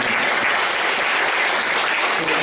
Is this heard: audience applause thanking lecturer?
yes